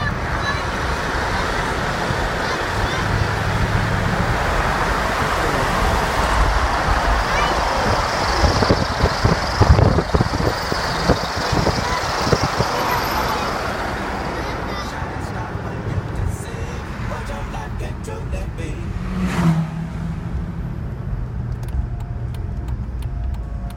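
A 1973 Plymouth Duster muscle car drives along a road, a steady engine and road rumble running throughout, with people talking over it.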